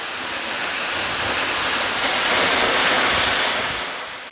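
A large waterfall just outside New York City, heard as a steady, loud, broadband rush of falling water with no break or talk.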